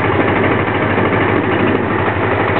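A Honda Magna V65 motorcycle with a very hard start idles on partial choke, a loud, close, steady engine rumble running evenly throughout with no voices.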